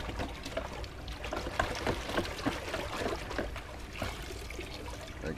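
Fresh water is poured into a container for a 125-gallon aquarium, giving a close, steady splashing trickle that runs for several seconds with no talking.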